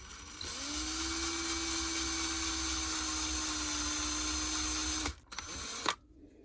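A small rotary drill bores into a seashell held against foam, a steady high whine for about five seconds, then stops and restarts briefly before cutting out, close and alone.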